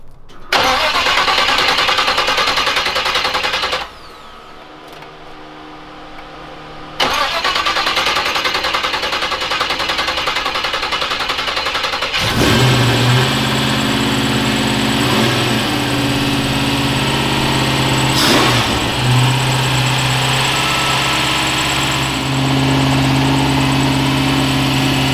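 A supercharged 1967 Cougar engine that sat for about three years cranks and starts, then settles into a loud, steady rumbling idle with a few revving surges, close to the listener.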